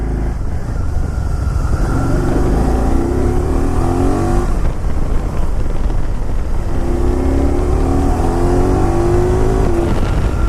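A Can-Am Spyder ST-S three-wheeled motorcycle with 6,700 miles pulls away and accelerates: a loud, close engine drone rises in pitch through two gear pulls, then drops and climbs again, with steady wind and road noise.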